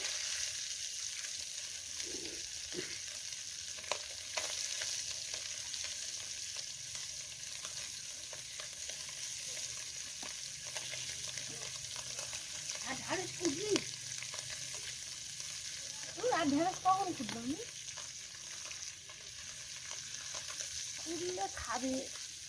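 Parshe fish fry in hot oil in a wok over a wood-fired village stove. A soft continuous sizzle is broken by a few louder bursts of stirring and spattering toward the end.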